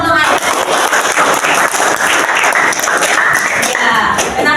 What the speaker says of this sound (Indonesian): Baik, tepuk tangan dong untuk